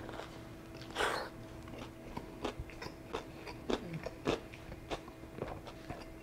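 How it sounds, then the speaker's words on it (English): Close crunchy bites and wet chewing of super spicy, crispy fried chicken eaten with coleslaw and bread, a steady series of crackling crunches and mouth sounds with no talking. "Let's give it another bite."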